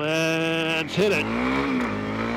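Honda CRF300L dual-sport motorcycle accelerating hard from 0 to 60 on a road: a loud, close engine drone climbs in pitch, dips briefly at a gear shift about a second in, then pulls steadily again.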